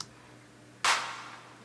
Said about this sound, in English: And this is the 808 clap.